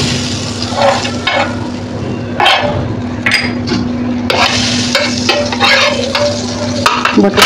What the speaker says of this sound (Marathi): आपण आता त्याच्यावर बटर टाकून घेणार आहे।